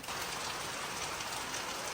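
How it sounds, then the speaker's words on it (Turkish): Rain falling harder on a hundred-year-old village house in the mountains, a dense, even hiss of drops on surfaces, steady and close with no voices. "Yağmur yine hızlandı."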